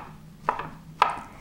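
A knife chops mushrooms on a cutting board with two crisp, close chops about half a second apart over quiet kitchen background, with no talk.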